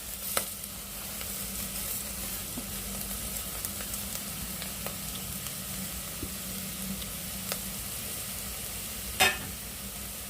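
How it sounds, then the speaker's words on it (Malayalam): Vermicelli goes into a hot cooker pan with sautéed vegetables, giving a steady low sizzle throughout, with a few scraping stirs and a sharper clatter near the end. "ഇതിലേക്ക് ഇനി ഞാൻ സേമിയ ഇടുകയാണ്."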